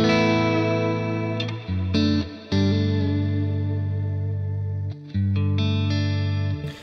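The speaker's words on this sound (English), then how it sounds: "if I want to create a more ambient sort of guitar tone, I'm going to go for this modulated reverb" Guitar chords played through a modulated reverb on a Neural DSP Quad Cortex, sustained shimmering tones with a few brief breaks between strums, ambient and washy, no voice.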